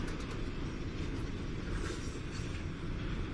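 Freight train wagons hauling copper ore through the Atacama Desert give a steady, dense low rumble with a faint rolling clatter, heard alone and fairly close throughout.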